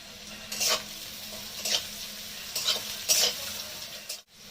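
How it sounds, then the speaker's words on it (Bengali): Crushed garlic frying in a pan with dried chilli and black cumin seed, a quiet steady sizzle punctuated by four brief bursts of stirring or scraping at even intervals. "তো আমার রসুন ভাজা বা পেঁয়াজ ভাজা হয়ে গেছে"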